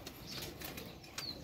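A pigeon arrives with a brief, faint flutter of flapping wings, a few soft papery beats against a quiet outdoor background.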